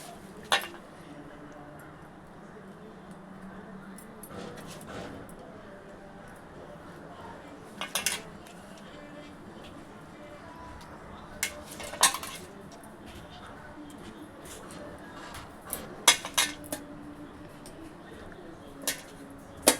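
Pieces of fish go into a thick masala curry in a pan and are stirred with a ladle, heard as scattered metallic clinks and scrapes over a quiet background, with a soft voice and occasional bird coos.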